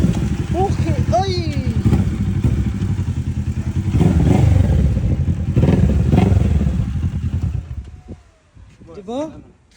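A 600cc big bike motorcycle engine revs and rumbles nearby, its steady throttle and clatter running under excited voices, then fading off toward the end.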